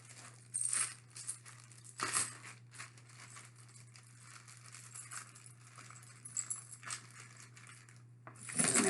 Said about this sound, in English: go ahead and take out your money and put it into the bank